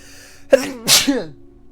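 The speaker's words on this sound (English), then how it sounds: "I had to sneeze." A single sharp human sneeze close to the mic, with a short breathy intake before the explosive burst, then quiet.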